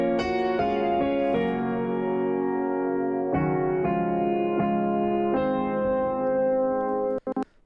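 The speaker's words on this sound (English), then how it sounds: "I layered it with the standard Ableton grand piano, and I took the low end and the low mid frequencies from that piano" A filtered sampled piano layered with Ableton's standard grand piano, which fills in the low and low-mid range, plays slow sustained chords alone, each struck cleanly and left ringing, ending with a brief click.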